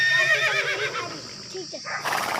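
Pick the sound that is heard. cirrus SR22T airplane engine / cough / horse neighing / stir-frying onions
horse neighing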